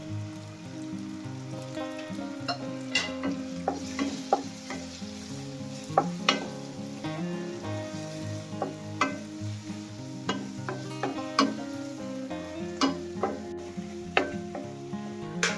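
Chili powder, chicken masala and coriander powder stirred into an onion and tomato masala frying in a pan for pappadam curry: a steady close sizzle broken by repeated scraping strokes of a spoon.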